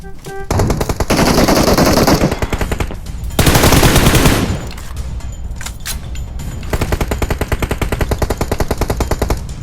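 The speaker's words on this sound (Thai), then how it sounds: "มันยิงกันหมดอ่ะเอ้ยอย่าเพิ่งยิงกัน" Loud, sustained machine-gun bursts from the mobile game PUBG Mobile, with rapid rattling volleys that overlap and pause briefly before resuming as quicker, rhythmic firing, close and dense throughout.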